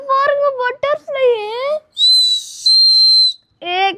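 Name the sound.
butterfly-shaped toy whistle being blown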